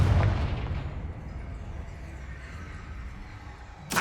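The Confringo explosive spell is cast in the Hogwarts Legacy video game, giving a loud booming blast that rumbles away over several seconds, followed by another sharp burst at the end.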